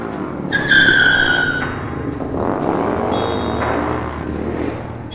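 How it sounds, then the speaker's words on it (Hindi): A cartoon motorbike speeding off, its engine whine and tire skid rising in sweeping pitched tones over steady background music, loud and close without speech. "बाइक लेकर वहाँ से जाने लगता है"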